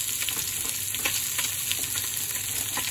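Whiting frying on medium high heat after a fresh catch on the Gulf of Mexico: a close, loud, continuous sizzle of hot oil with scattered crackles and spits, no voices.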